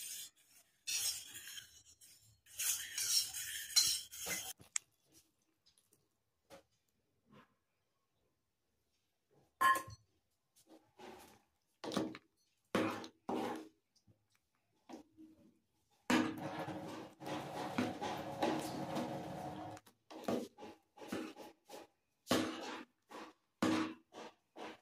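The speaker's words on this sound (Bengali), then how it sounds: "আর কাস্টার্ড পাউডারটা দেওয়ার পর কিন্তু কন্টিনিউয়াসলি নাড়তে হবে দুধটাকে" A spoon scrapes and rasps against a pot while milk with custard powder is stirred, in bursts of close, scratchy strokes separated by silent gaps.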